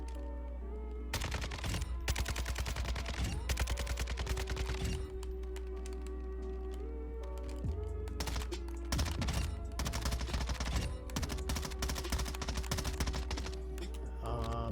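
Rapid automatic rifle fire from shooting bots in Call of Duty: Warzone, loud bursts of gunshots repeating across the whole stretch with short pauses between volleys, over a steady game soundtrack and no talk.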